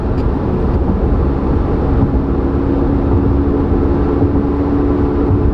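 A twin-turbo Corvette C8 Z06 in sport mode holds a loud, close, steady engine roar with no clear rise or fall, a continuous deep drone lasting throughout with no voices.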